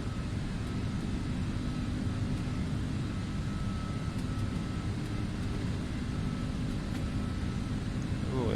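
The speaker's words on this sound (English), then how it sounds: "Ooh, it seems like it's gonna be a long takeoff run" Aerosoft Airbus A330 freighter of Air Hong Kong on its takeoff roll at Hong Kong in the Prepar3D v5.2 flight simulator, a steady broadband engine roar and rumble, continuous and even throughout.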